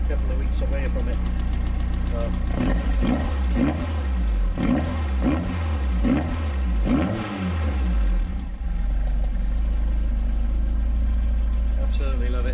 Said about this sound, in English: She's gone on from a cold idle onto normal idle, so I'll give it a bit of a brap.